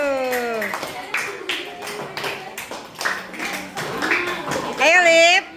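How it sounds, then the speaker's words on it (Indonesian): A group of children clapping together for a classmate team in a classroom, an irregular burst of claps under constant talking and shouting voices, with a raised voice near the end. "Beri tepuk tangan untuk kelompok 2."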